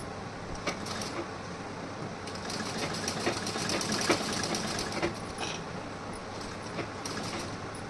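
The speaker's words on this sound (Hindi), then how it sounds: "आर्म होल के हमें अब स्टिचिंग करना है।" A domestic sewing machine stitches the armhole of a blouse, a close, fast rhythmic whirring clatter running steadily throughout, with slight surges in speed and no speech over it.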